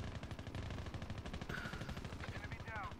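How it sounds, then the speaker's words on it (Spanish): Rapid automatic gunfire in Call of Duty Mobile's battle royale mode, a dense steady rattle of shots that continues without a break. It sounds faint and distant throughout. "Están disparando al 3"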